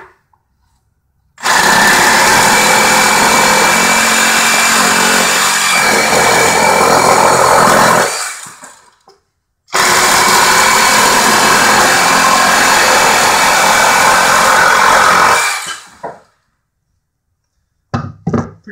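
A Milwaukee M18 Hackzall one-handed reciprocating saw cuts in two loud, sustained bursts of about seven seconds each, separated by a brief pause, then trails off into quiet.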